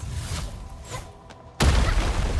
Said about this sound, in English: Right on target. I give that explosion a 10 out of 10.